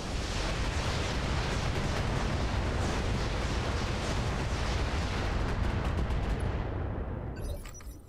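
Heavy weapons in the Roguetech mech game fire as a continuous roaring barrage of booming blasts, loud and dense for about seven seconds before tapering off.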